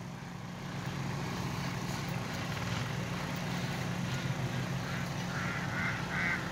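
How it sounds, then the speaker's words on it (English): Ducks quack softly in short bursts over a steady, loud background rumble, the calls rising near the end. "Look at the ducks, they think I have food"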